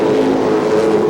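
Late model race cars roaring around a track during a feature race, a loud, dense, continuous engine drone with a steady pitch and nothing else audible.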